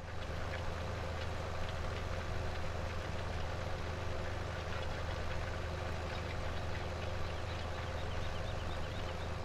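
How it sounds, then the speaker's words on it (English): A tractor engine idles in the Farming Simulator video game, a steady low rumbling drone that stays even and unbroken throughout. "That big bad boy. It's almost my favorite tractor"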